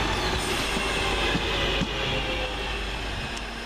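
A London Midland Cross City class 323 electric train pulls out of a station, a steady close rumble and hiss of motors and wheels on rails with faint squeals, running alone throughout.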